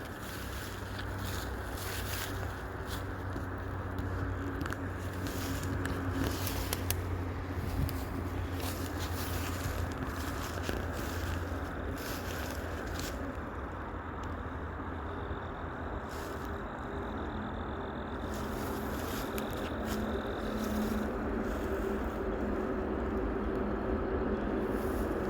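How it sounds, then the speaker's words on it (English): A freeway close by gives off a constant low road-traffic rumble with broadband wash and wind buffeting, faint and steady through a long stretch with no talking. "It's good to have that road noise so they don't hear me."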